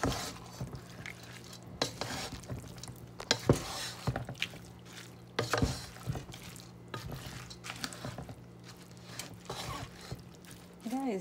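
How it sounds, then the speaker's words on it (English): Soaked rice is stirred into a mixed chicken, prawn and mutton pulao in a pot, giving irregular scraping strokes and light clinks of a spoon against metal over a faint background hum. "now I add the rice, soaked rice. Now give it a mix."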